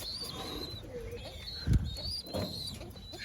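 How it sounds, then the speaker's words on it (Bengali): A young silver pigeon coos quietly with low soft calls, while thin chirps and a brief rustle or flutter of wings are heard nearby over steady background noise. "এই যে আমার সিলভার কবুতরের বাচ্চাটা"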